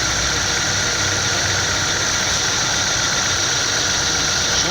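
A Chevrolet Prisma 1.4 engine runs with an abnormal noise, a steady close-up mechanical drone with a ticking, knocking edge and a thin high squeal riding on top, uninterrupted and free of speech.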